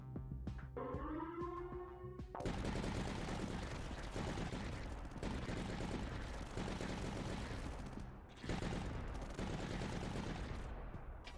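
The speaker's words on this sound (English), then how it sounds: "Heavy guns." Heavy guns firing in the game Tower Dominion roar in a dense, continuous barrage of overlapping loud shots and booms. The barrage keeps up for most of the clip with brief dips, after a short voice at the start.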